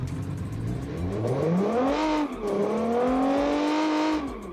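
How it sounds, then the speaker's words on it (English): Modded video game car engine meant to sound like a Nissan GT-R R35 twin-turbo V6 revs up, briefly drops off, then climbs again in a steady, loud, close drone with no talking. "Sounds like a GTR R35 twin-turbo V6."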